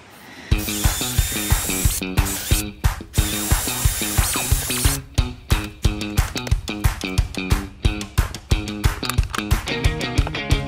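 Threaded-rod screws being driven through picnic table leg joints with a power tool, loud and close, a fast repeating whirring ratchet pulse in steady bursts with short pauses, no talking.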